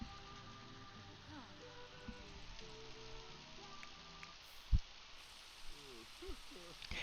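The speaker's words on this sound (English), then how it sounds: "it's really rainy out right now" Steady rain falls outdoors as a broad, continuous hiss throughout, with muffled background noise and a few brief knocks but no clear talking.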